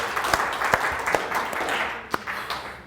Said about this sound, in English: a big round of relieved applause